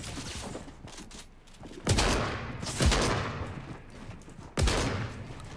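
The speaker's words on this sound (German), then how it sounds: "Die schießen, die fighten gerade." Gunfire in the Fortnite video game, with several sharp, loud shots and bursts cracking at irregular intervals over a low background rumble.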